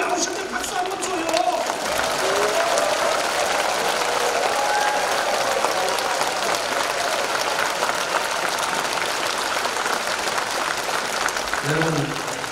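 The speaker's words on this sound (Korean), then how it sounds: "주인공님 나오실 때 박수 한번 줘요" Sustained applause from a congregation at a Korean church thanksgiving service fills the space steadily and evenly throughout, a dense wash of clapping with no break.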